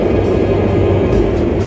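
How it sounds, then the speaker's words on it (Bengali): A Nanjing metro train runs with a steady, loud low rumble and a dense roar that holds for under two seconds, then drops away suddenly at the end. "এটা হইলো আমাদের নানজিংয়ের মেট্রো রেলের আর কি সিচুয়েশন"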